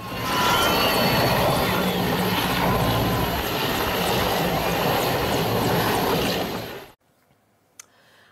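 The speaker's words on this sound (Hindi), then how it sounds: "वायुसेना का ये रेस्क्यू हेलीकॉप्टर बेंगलुरु के एयरफोर्स स्टेशन से आया था।" An Air Force rescue helicopter from the Bengaluru air station during flood rescues in Andhra Pradesh, its loud steady rotor and engine roar filling most of the clip before cutting off abruptly into near silence.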